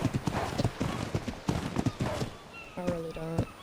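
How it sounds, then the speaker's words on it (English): Horses ridden in the video game Ark: Survival Evolved give a quick, steady clip-clop of hooves close by, then a short, bright neigh at the end. Someone talks over it. "I don't like riding with the horses when they're pregnant."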